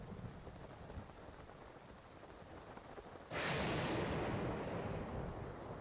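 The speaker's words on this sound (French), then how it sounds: "Ça fait du bruit, les éclairs." Thunder and rain in a storm in The Legend of Zelda: Breath of the Wild: steady soft rainfall, then a sudden loud thunderclap crashes in and rumbles on with the downpour.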